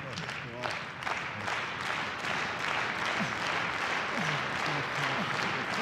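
A pro wrestling arena crowd claps and cheers steadily through a NOAH title match, a continuous dense wash of applause with shouts rising above it, while a commentator's voice runs over the top.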